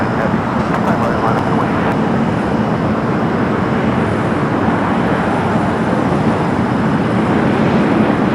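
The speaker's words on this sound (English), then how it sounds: "Flight coming up from Osaka, 787-9 Dreamliner." Boeing 787-9 Dreamliner arriving from Osaka at Los Angeles, a steady, loud rumbling jet roar that holds evenly with no voices.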